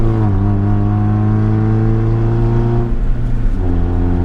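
A manual stick-shift car pulls away, its engine droning steadily as revs climb, then dip briefly through a gear change and rise again, heard from inside the cabin.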